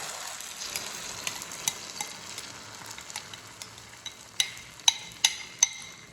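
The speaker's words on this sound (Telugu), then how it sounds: "మందంగా పోసుకోవాలి, అంటే 3 eggs అయినా 4 eggs అయినా ఒకటే ఆమ్లెట్ అనమాట" A thick three-to-four egg omelette mixture frying in a pan, a soft steady sizzle with a series of sharp clicks and taps that grow louder toward the end, close by and without speech.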